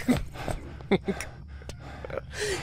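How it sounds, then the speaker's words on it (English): Hard, ragged breathing and sharp gasps from a character in the Indiana Jones and the Emperor's Tomb video game, a few distinct intakes of breath spread over a couple of seconds against quiet game ambience. "Stop breathing so hard."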